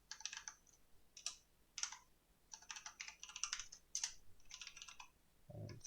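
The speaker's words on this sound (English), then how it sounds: "let's just type in hello world." Bursts of typing on a computer keyboard, quick clicky keystrokes in uneven clusters with short pauses, fairly faint and alone, ending with a low thump.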